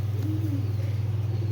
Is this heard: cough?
no